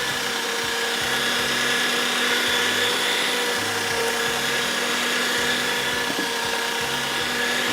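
Minced meat for shami kabab ground in an electric chopper, a steady whirring motor drone with a churning, slightly uneven pulse, close and continuous.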